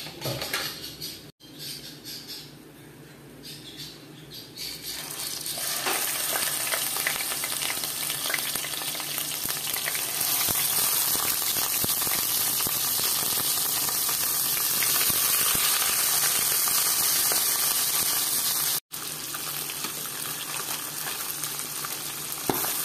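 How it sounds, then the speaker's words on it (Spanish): Catfish sautéing in hot oil in a pan, giving a loud, steady sizzle and spatter after a quieter start, close and continuous for about twenty seconds. "Lo estamos salteando, hay que tener mucho cuidado porque él brinca mucho. Saltea mucho el aceite"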